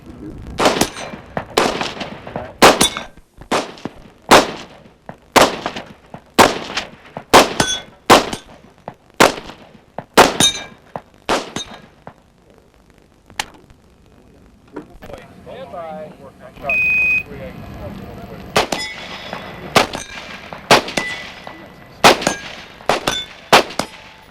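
Winchester rifle shots fired at steel targets in a 1989 shooting competition, a rapid series of about twenty sharp cracks each followed by a metallic ring, evenly spaced with brief pauses, loud and close with faint talk between.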